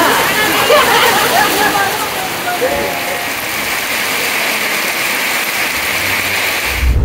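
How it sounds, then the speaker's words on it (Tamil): Heavy rain pours down in a village, a steady, dense hiss that fills the background while someone talks over it. "இந்த டைம்ல போக முடியாது, மழை ஓவரா பெய்யுது"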